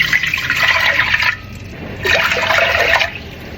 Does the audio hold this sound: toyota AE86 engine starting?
no